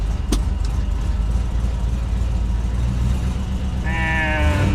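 A Ford Ranchero engine runs on its carburetor in a steady, close, loud rumble throughout, with a brief click near the start and a rising whine entering toward the end.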